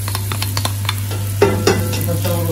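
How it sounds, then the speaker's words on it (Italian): Onion and potatoes sautéing in a pan, a close crackling sizzle over a steady hum, with a few louder stirring scrapes partway through. "facciamo rosolare tutto"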